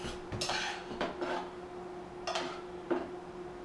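Cooked shrimp in beer sauce being plated, with a few close clinks and scrapes of utensils against dishes at irregular moments over a quiet kitchen background, no talking.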